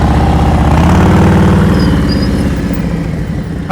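A motorcycle engine idles close by during slow-speed riding practice, a loud steady low-pitched throb with even firing pulses that eases slightly toward the end.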